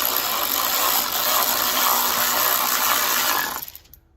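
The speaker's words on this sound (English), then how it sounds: "I'm just going to probably just tech screw it" A power tool drives a tech screw into the plastic under tray of a quad bike, a steady loud whirring buzz running for about three and a half seconds before it abruptly stops.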